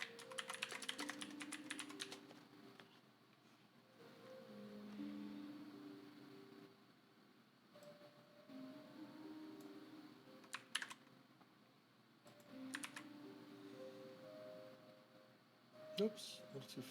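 Fingers typing on a computer keyboard in bursts of close, quick clicking, pausing every few seconds, under a faint, low background hum.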